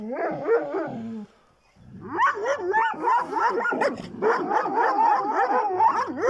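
A Kangal dog barks and yelps in quick strings of high, wavering calls, a short volley, a brief silence, then a longer continuous run of excited barking close by.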